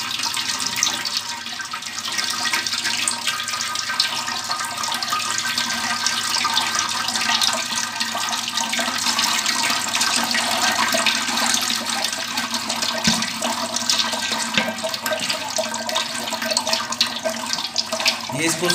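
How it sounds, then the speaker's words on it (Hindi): Water is poured from a jug over ground almonds while straining almond milk, a continuous splashing and trickling that runs the whole time with a voice talking over part of it. "देखिए जग के साथ हम पानी डाल रहे हैं इसके अंदर"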